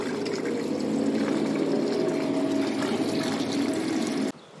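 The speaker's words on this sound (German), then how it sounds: "Wir machen jetzt den ultimativen Test und füllen Wasser in die Tasche und schauen, wo es rausläuft." Water poured into a bicycle pannier bag to check for leaks: a steady, close gushing stream of liquid that runs continuously for several seconds, then cuts off abruptly near the end.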